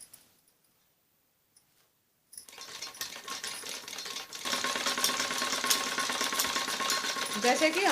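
A sewing machine stitches a padded blouse. After a near-silent start it runs with a fast, steady mechanical chatter, getting louder and denser toward the end.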